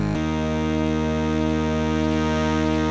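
A NINA 12-voice analog polysynth plays a ring-modulated harmonic fuzz tone from its first two oscillators. It holds as one steady, buzzy, harmonically dense note with no talk over it.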